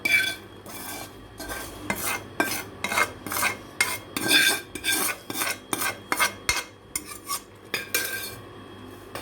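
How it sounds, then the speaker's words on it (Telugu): A spoon scrapes and clinks rhythmically in a bowl as cooled tempering oil is mixed into prawn pickle, with repeated close stirring strokes and no talk. "ఇది చల్లారిపోయింది, దీన్ని ఇప్పుడు పచ్చడిలో కలుపుకుందాం."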